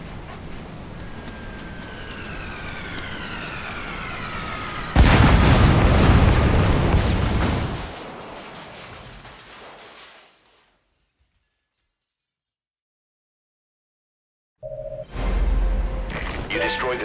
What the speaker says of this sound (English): You destroyed the separator tank.